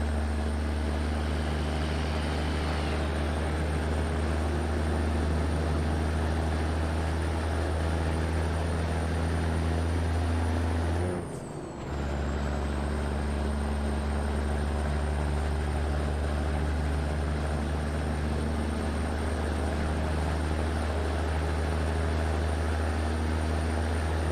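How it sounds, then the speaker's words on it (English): Airplane taking off in a truck simulator game, a loud sustained engine roar with a steady whine, briefly dipping midway before resuming, with no talking. "Ooh, plane taking off."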